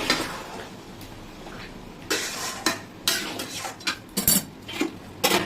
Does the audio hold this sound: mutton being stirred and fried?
yes